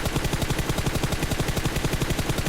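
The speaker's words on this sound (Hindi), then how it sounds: "यहाँ पे गाइस एक बंदा डीपी से फायरिंग करता है" A DP-28 light machine gun fires in PUBG Mobile, a rapid, evenly spaced stream of loud shots continuing for the whole stretch without a pause.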